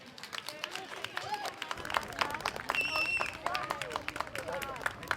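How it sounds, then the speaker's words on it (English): Audience applause and scattered cheering at an outdoor Fourth of July community celebration at High Rock Tower Park, a lively crowd clapping steadily with chatter mixed in. "Another round of applause"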